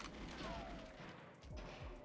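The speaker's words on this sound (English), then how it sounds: "Oh yeah, someone threw a grenade." In the GoldenEye 007 video game, a grenade goes off amid gunfire, a short stretch of booming blasts and crackling shots from the game's soundtrack of combat.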